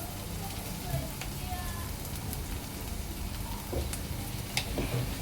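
Mixed vegetables fry in oil in a pan for Marathi-style fried rice, giving a steady, close, continuous sizzle with faint crackles and no voices.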